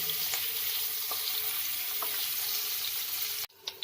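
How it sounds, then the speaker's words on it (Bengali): Capsicum pieces fry in a pan with a steady, dense sizzle and a few faint stirring clicks, the sound cutting off sharply near the end. "ক্যাপসিকামগুলো হালকা ফ্রাই হয়ে গেছে"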